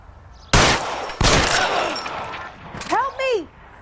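Gunfire in the video game L.A. Noire: two sharp, loud bursts of shots close together, followed by a shout and strained voices cutting through the fading echo.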